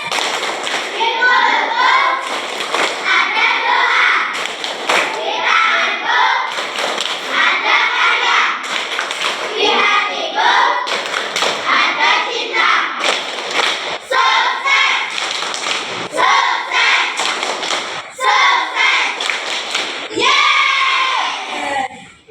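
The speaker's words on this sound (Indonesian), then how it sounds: "kita bersama-sama lakukan tepuk sukses biar jadi anak-anak sukses semuanya" A class of children performs the rhythmic Indonesian 'tepuk sukses' clapping chant, bursts of sharp synchronized claps alternating with loud shouted chanting voices in a repeating pattern, close and lively, ending with a final cheer.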